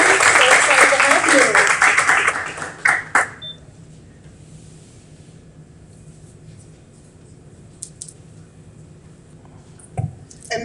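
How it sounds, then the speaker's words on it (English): Audience applause at a technical school signing day event, a burst of clapping for the first few seconds that cuts off abruptly, followed by a quiet room with a few faint knocks. "we give Maddie a round of applause"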